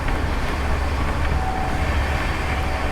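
A 20805 Andhra Pradesh Express train runs at speed through monsoon country, heard from inside a general coach as a steady, loud rumble and rattle of wheels and carriage with no voices.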